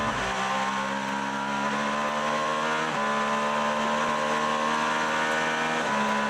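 IMSA GTP prototype race cars at the 2023 Petit Le Mans, engines howling steadily at high revs with repeated rising pitch sweeps as the cars accelerate down the straight, constant and fairly loud.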